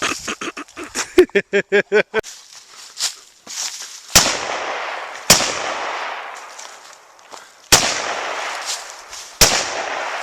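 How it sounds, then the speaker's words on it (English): Sharp gunshots ring out at a plastic container on rural Michigan land, starting as a rapid burst of quick cracks and then slowing to four loud, widely spaced blasts, each followed by a long echoing decay. "I think I'm shooting low, but we're tearing the hell out of this Tupperware, well, this container up"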